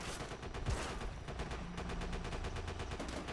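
Rapid machine gun fire in the video game Call of Duty: World at War, a dense stream of quick repeated bursts, fairly faint and steady throughout.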